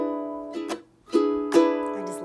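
Ukulele chord strummed in a music class, ringing out in several separate strokes with sustained harmonic tones between them, close and clear with no talking.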